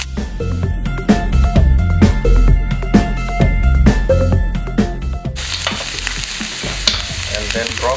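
Leeks sauté in a hot pan for a vegetable quiche, a loud, close sizzle with rapid stirring clatter that shifts partway through into a broader, hissing fry.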